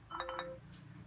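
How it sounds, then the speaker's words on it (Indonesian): A used phone's ringtone plays through its own speaker as a test: a short bright melodic chime of three quick tones, moderately faint, then a soft fading tail with no talk. "Kita masuk ke tes dering ya suara."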